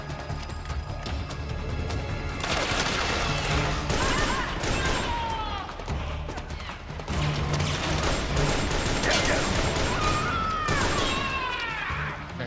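Dense gunfire in the stealth action game Metal Gear Solid 4, with rapid overlapping shots and crashes crowding a loud battlefield mix, broken by whistling, sweeping effects and a short lull near the middle.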